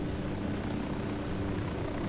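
Helicopter in the video game Ghost Recon Wildlands, a steady droning engine and rotor hum that holds constant and fairly close for the whole stretch, with no talking over it.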